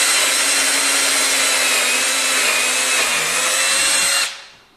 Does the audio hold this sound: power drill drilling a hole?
yes